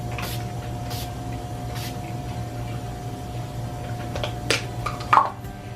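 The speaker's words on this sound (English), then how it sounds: "I'm gonna take this setting spray one more time." Makeup setting spray mists onto a face in a few soft, short hissing puffs over a quiet room hum, with a slightly louder spritz near the end.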